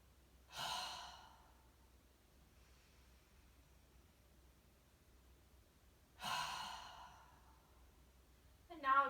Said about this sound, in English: We're going to do just a few more of these breaths.